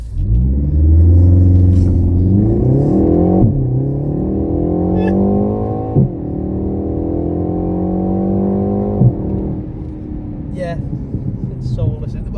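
A BMW M135i engine roars hard as it launches, climbing through revs with brief dips at gear changes, loud and close from start to finish.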